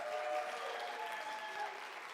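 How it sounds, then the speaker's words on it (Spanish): Faint, distant applause from a church audience honoring volunteers, a soft steady patter with a thin sustained tone running underneath. "Quiero darles un aplauso a ellos."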